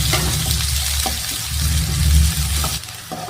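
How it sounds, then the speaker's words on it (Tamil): Onions sautéing in a pan for mushroom gravy, with a close, steady sizzle and a few stirring scrapes, no voices. "வெங்காயம் கொஞ்சம் நல்லா வதங்கி வரட்டுங்க"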